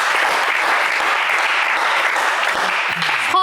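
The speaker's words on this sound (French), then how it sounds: "on applaudit César, s'il vous plaît." Studio audience applause on a French game show, a steady dense clapping that fills the room and holds loud and even throughout, ending with a brief tonal sound at the close.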